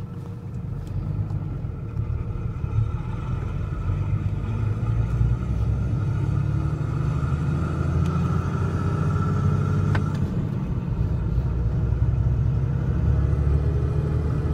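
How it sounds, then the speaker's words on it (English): A Cummins diesel truck engine with a G56 transmission and Valair twin-disc clutch, driving in third gear: a deep, steady rumble drones for the whole stretch, even and moderately loud, with a faint whine rising slowly over the low roar. "Third gear's really not that loud."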